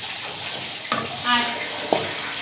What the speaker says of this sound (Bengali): তো এটা এখন আলুটা ভেজে নিচ্ছি